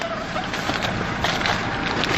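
Steady wind rushes across the microphone, a dense broadband roar with gusty surges and no talking.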